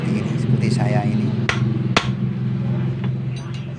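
A hammer strikes the front shock absorber of a Yamaha RX King motorcycle during repair, two sharp metallic blows about half a second apart over a steady mechanical hum, with someone talking throughout.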